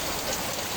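Heavy flood rain pours down steadily and loudly up close, a dense continuous hiss of water on surfaces with no pauses or talk.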